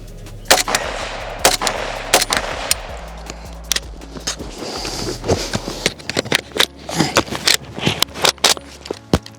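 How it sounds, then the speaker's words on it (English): Magazine reload on a plastic toy AK rifle, a rapid run of sharp plastic clacks and rattling clicks, close and fairly loud, with no talk over it. "I'm gonna try to do a little reload here with the Plastikoff V3"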